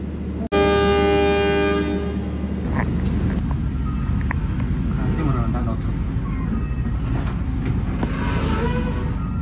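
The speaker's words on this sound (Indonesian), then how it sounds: "Ada kereta api masuk teman-teman." A loud train horn blares, then the heavy continuous rumble and clatter of a train passing close by on an Indonesian railway line, dominating the whole stretch.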